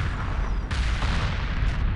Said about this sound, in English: A lot of build up to that explosion, and then it's just a big pile of debris